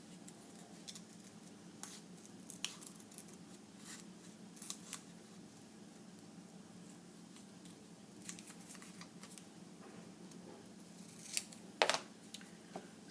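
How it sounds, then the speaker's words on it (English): Scissors snip through paper while cutting out a craft house, giving soft, sparse, close clicks and rustles at irregular intervals, with a louder burst near the end. "Just cutting around."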